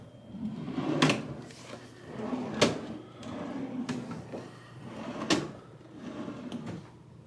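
Hotel room drawers at Disney's Art of Animation, Little Mermaid room, slide open and shut in a few sharp knocks and rumbling glides over a low room hum, close by and fairly loud.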